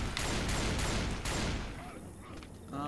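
Pipe bomb blast in the game Left 4 Dead 2: a dense, loud rumbling explosion with rapid crackling bursts that fades over a couple of seconds, then a faint voice-like sound at the very end.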